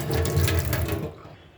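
Water from a kitchen tap runs hard as hands are washed after handling chicken, loud and close, then cuts off abruptly near the end with no talking.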